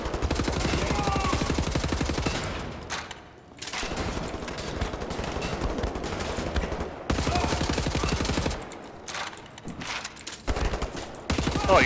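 Rapid automatic gunfire in the shooter game Wolfenstein: The New Order, loud dense bursts of shots with brief pauses between volleys, close and continuous across the clip.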